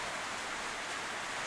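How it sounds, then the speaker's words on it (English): Steady, dense hiss of heavy rain drumming on a metal shed roof, continuous and fairly loud with no talking. "This is why you don't record in a metal shed when the weather says it's raining."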